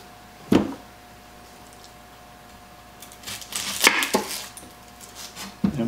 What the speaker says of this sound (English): I'm gonna go ahead and cut up my onion